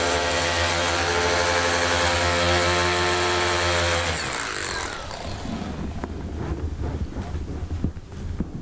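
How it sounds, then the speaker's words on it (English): A FLEX rotary polisher whines steadily at high speed while correcting sanding marks in the paint of a vintage Plymouth 'Cuda hood, then spins down after about four seconds, leaving lighter handling noise. "What's cool about this flex tool, you can take this out, straight shaft it, and turn it into a rotary within seconds"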